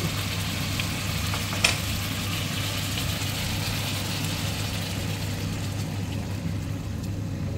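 Beaten egg going into bitter gourd (ampalaya) frying in a pan, a steady soft sizzle over a low constant hum, with one brief click partway through.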